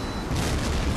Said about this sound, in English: Ground target destroyed.